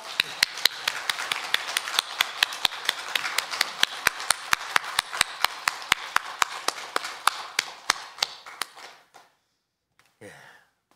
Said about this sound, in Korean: 우리도 힘찬 박수로 영광 돌립니다